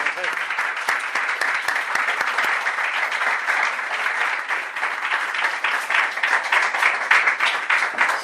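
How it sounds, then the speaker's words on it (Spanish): Loud, close applause from an audience welcoming a speaker at a talk, with a continuous rush of many hands clapping and sharp individual claps standing out. "te vamos a recibir con un aplauso"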